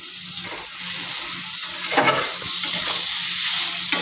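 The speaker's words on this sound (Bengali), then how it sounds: "সব মশলাগুলো একসঙ্গে মাখিয়ে নিতে হবে। একটু নেড়ে চেড়ে ঢাকা দিয়ে দিল" A spoon stirs and mixes spices, green chilli paste and elephant-foot-yam stalks for a poppy-seed dish in a sizzling pan, with scraping strokes and a few light clinks over a continuous frying hiss; no one talks.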